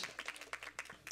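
A worship congregation applauding to welcome first-time attendees, a brief, moderately faint burst of scattered hand claps from many people in a hall.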